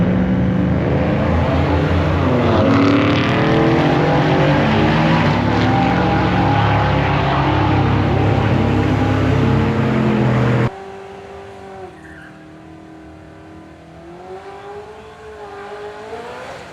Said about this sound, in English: we bring up the 4-door Audi on the right-hand side and the F-150 pickup truck on the opposite side